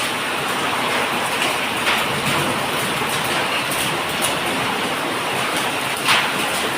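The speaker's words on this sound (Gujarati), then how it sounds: "કેટલો વરસાદ ચાલુ હોય તો." Heavy rain pours during a windstorm with hail, a loud, continuous broadband roar of water that stays steady from start to finish, with only a few brief louder patters and no voices.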